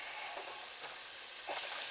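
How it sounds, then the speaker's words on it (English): Flour stirred into a hot pan of butter as the roux for a fire-roasted tomato bisque, giving a steady close sizzle with a few soft scraping stirs and no talk. "We're going to stir in our 5 tablespoons of flour"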